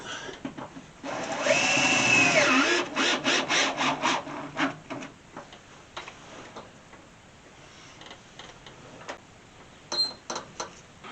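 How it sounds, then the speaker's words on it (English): Power drill driving a self-tapping screw into the inner fender of a 1964 Ford Falcon: a loud whining burst of several seconds with a falling pitch, then stuttering rattles and quieter tool handling noises nearby. "I just attached the ground wire to the inner fender with that self-tapping screw."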